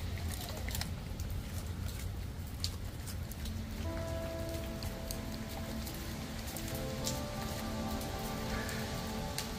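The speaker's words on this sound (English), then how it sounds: "we're just out walking in the rain" Steady rain patters on surfaces nearby, a dense continuous hiss with scattered droplet ticks, no voices.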